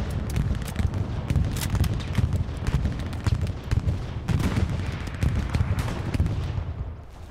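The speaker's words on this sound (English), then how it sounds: "That's a barrage if I've seen them" Dense, continuous gunfire and heavy artillery blasts from a Hell Let Loose battle, with rapid overlapping shots and booming impacts filling the whole stretch at a steady, loud level.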